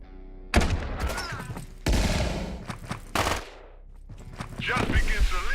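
Automatic gunfire in the video game Quasimorph, loud rapid bursts of shots in several volleys with short gaps, followed by further scattered shooting near the end.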